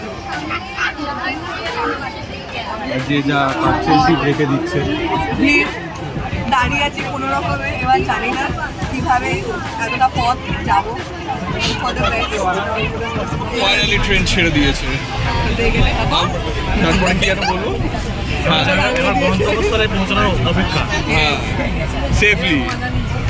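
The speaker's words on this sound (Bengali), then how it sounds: "ভিড়টা দেখ" A dense crowd babbles continuously on a packed train bound for Digha, many overlapping voices close and loud with rumbling movement beneath, and a nearby person talking throughout.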